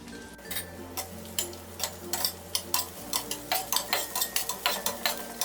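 Ten finely chopped garlic cloves sauté in a pan of olive oil for homemade pizza sauce, with a steady run of sharp spoon-against-pan taps over a soft, low sizzle, close and alone.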